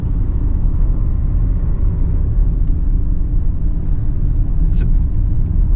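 A VW Transporter 6.1 van cruises along a road in the Netherlands, giving a steady, loud low engine and road rumble inside the cab while people chat over it.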